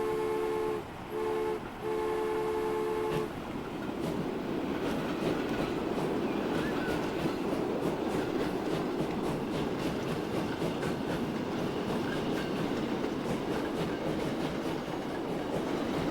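Train in Transport Fever 2, opening with a few sustained horn-like tones in short bursts, then a steady rolling rumble of wheels on track with faint rhythmic clatter, even and continuous, no voices.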